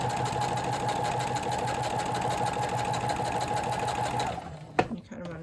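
A sewing machine runs steadily for about four seconds, top stitching a hoodie dress, with a loud, even motorized hum before it stops and a brief clunk of handling follows.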